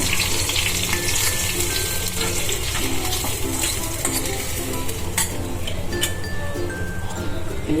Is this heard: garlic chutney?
yes